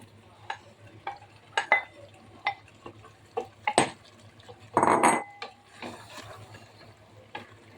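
Beef with fried potatoes being stir-fried in a pan: a utensil scrapes and knocks against the pan in an irregular rhythm, with one longer, louder scraping burst partway through over a faint background, and no talking.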